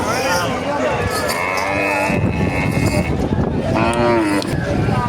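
Cattle at a busy livestock market moo loudly and close by, with two long, drawn-out calls over a noisy crowd background, while people talk in the clip.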